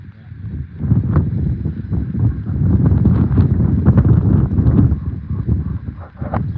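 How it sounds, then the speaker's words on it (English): Strong outdoor wind gusting across the microphone, a rough, rumbling low roar that swells and fades over several seconds beside a car under repair, with faint knocks and no speech. "It's quite breezy."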